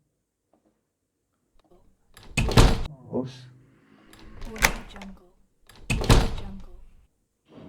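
Door-closing sound effects play alone in four separate thumps with short rattling tails, roughly one every second and a half, loud and close against silence.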